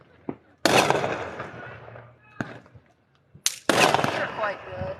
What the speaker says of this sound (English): these are like baby fireworks